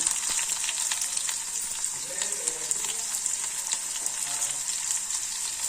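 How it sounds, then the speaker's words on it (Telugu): Chopped onion frying in a pan with curry leaves for a tomato curry, giving a steady, close hiss of sizzling oil with occasional sharper crackles throughout. "చూడండి, ఉల్లిపాయలు వేగిపోయినాయి"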